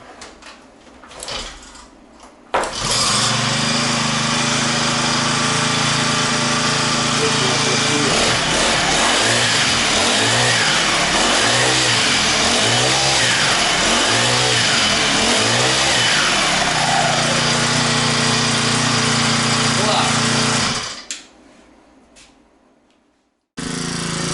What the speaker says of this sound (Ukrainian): працює двигун, якому вже 8 років